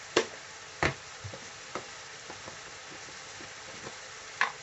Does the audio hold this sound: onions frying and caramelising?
yes